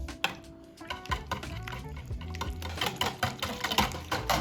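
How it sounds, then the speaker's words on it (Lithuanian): A metal whisk beats pancake batter in a bowl, making rapid irregular clinks and taps against the sides and a wet stirring swish, close and moderately loud, with no talk. "Taigi dabar imam viskerį ir išmaišysim."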